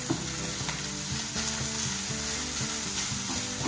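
Ground pork browning in a pan for spaghetti meat sauce, a steady close sizzle and crackle with intermittent scraping stirs, continuous and fairly loud with no voices.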